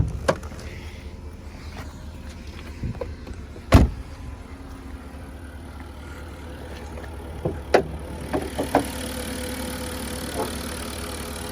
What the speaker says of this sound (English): See, this engine runs very nicely.